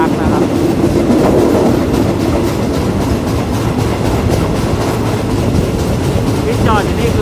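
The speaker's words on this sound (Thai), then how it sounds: "ที่จอดอยู่นี่คือรถบรรทุกหินนะครับสำหรับเอาไปลงรางรถไฟนะครับเราจะเห็นว่ามีหัวรถจักรนะครับ" Train and railway wagon rumble near Pong Maduea station in Nakhon Pathom, Thailand, where a locomotive stands with ballast stone wagons for track work; a steady, loud low rolling drone continues throughout with faint clacking.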